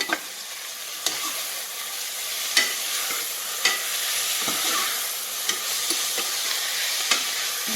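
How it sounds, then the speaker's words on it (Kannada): A curry base for mutton curry fries in oil with a steady bright sizzle, broken every second or so by sharp scraping taps of a spoon stirring against the pan. "ಒಂದು ಐದು ನಿಮಿಷ ಬೇಸ್ ಫ್ರೈ ಮಾಡ್ಕೋಬೇಕ"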